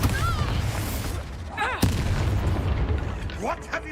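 Spell blasts from Confringo and Bombarda in the video game Hogwarts Legacy, sharp booming impacts with a loud burst near the two-second mark, set against continuous game sound and chirpy effects.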